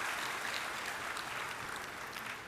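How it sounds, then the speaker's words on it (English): An audience at a university freshers' induction programme claps in steady, continuous applause, a dense patter of many hands at moderate volume throughout. "Let us give a big round of applause to them for all this grand reception."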